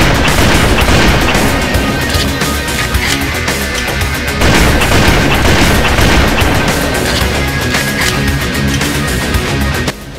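SRS-99C sniper rifle firing in Halo: Combat Evolved: loud, dense booming shots that blend into a continuous wall of blasts and game noise, with no pause for its whole length.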